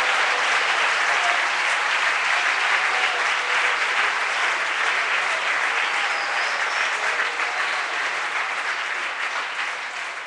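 A church congregation at a religious convention applauds steadily for about ten seconds, a dense, loud wash of clapping that fades slightly at the end.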